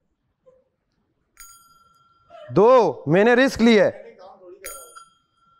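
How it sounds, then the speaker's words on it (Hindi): A bright bicycle-style bell rings twice in a game, a sharp ding before and after, with someone talking loudly in Hindi in between. "3 घंटियां मैंने बजवाई"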